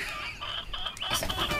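Chicken clucking in a read-aloud children's farm story, a short run of close, nasal clucks and squawks rising in pitch toward the end.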